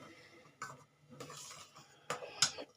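A spoon stirring carrot and milk in a metal pan, a few soft scrapes and clinks against the pan spaced irregularly, close and fairly quiet.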